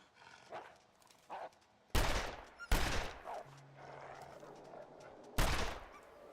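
Sharp, loud gunshots ring out at a bear in The Long Dark, three separate cracks spaced a second or more apart against quiet wilderness ambience, each followed by a brief echoing tail.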